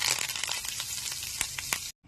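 Curry leaves hit hot oil for a sambar tempering, already popping with mustard seeds and dried red chillies, giving a loud, dense sizzle with sharp crackles that stops abruptly near the end.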